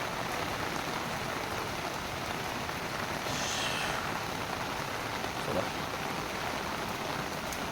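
Steady rain falls over a village, a dense, even hiss of drops on surfaces that holds constant throughout, with a faint brief voice in the background.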